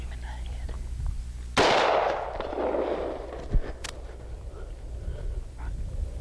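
Single loud AR-15 rifle shot fired at a hog during a decoy hunt, a sharp close crack with a trailing echo, followed by a faint thump; hushed whispering voices come before and after.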